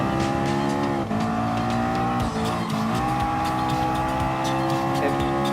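A Ford Mustang Mach 40 and a LaFerrari racing in Gran Turismo Sport, a loud continuous high-revving engine drone with brief tire-squeal dips, heard without talk.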